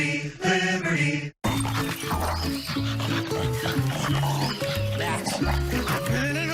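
A dog barks and grunts in a dental treats commercial, several rough vocal bursts mixed with dense music and a voice, loud and close throughout.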